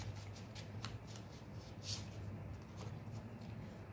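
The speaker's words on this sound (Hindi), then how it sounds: "थोड़ा सा शफल कर लेते हैं" Tarot cards are shuffled by hand in a series of soft, close riffling bursts, quiet and without talk.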